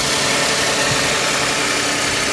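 Engine of a 2008 Toyota Sienna idling steadily with a new alternator belt fitted, a close, constant broadband running noise with no breaks or talk.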